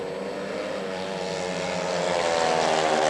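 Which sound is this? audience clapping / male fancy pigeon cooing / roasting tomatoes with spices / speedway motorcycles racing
speedway motorcycles racing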